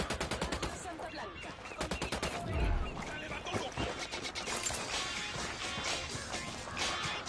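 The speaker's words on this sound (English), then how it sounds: "I'm opening fire on these shitheads" Rapid bursts of automatic gunfire from a Ghost Recon Wildlands firefight, sharp cracking shots in quick volleys with a heavy thump in the middle, loud and close throughout.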